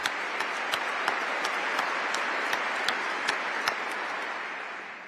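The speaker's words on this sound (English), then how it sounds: "Let's give applause to that idea," Audience applause at an Air Force change of responsibility ceremony, a large crowd clapping evenly at moderate distance, with a few sharper claps standing out and the sound tapering slightly at the end.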